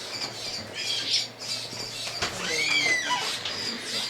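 At a wildlife center, a bird gives repeated harsh squawks and a rising squeal. Faint background noise runs underneath.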